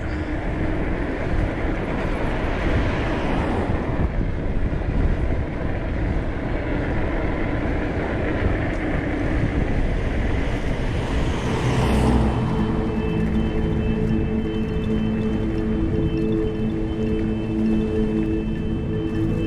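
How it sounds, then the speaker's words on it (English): Strong wind roars continuously against the microphone during an e-bike ride, a heavy rumbling buffeting with a steady tonal hum emerging partway through. "it's so windy"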